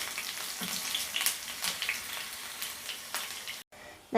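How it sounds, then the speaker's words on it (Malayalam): Bitter gourd pieces sizzle and crackle while deep-frying in hot oil, close up, with occasional stirring before a brief cut. "ഇനി നമുക്ക് ബാക്കിയും കൂടെ ഫ്രൈ ചെയ്തെടുക്കാം"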